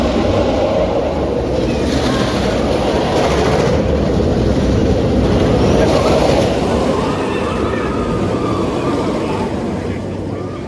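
Yo Chill, a twisty single-rail roller coaster at Walibi Holland during Fright Night, roars loudly and steadily throughout, a dense rumbling rush of wheels on track and wind with no clear breaks.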